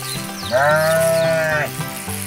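A cartoon sheep lets out one loud, sustained bleat of about a second, with a steady tonal voice over a busy background bed.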